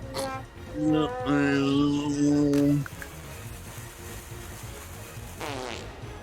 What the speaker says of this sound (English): that's a fart bomb right there